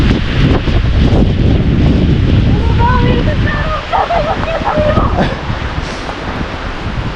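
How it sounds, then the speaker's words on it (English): Intense 50-60 mph wind roars across the exposed snowy summit of Mount Si during a blizzard, a loud, continuous buffeting rush that batters the microphone throughout, with faint voices briefly audible under the gusts. "The wind is kind of getting intense, and now we're not so protected from it."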